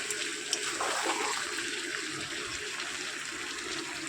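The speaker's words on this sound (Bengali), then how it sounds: "এখানে আমি দিয়ে দেবো গরম জল। এর মধ্যে এবার আমি একটু গরম জল দেবো।" Hot water poured into a pot of chicken biryani curry, a steady close watery splashing and trickling that runs evenly throughout with no talk.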